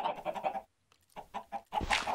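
Chickens in the video game Minecraft Feed The Beast cluck in quick repeated bursts, close and clear, with a short pause between groups.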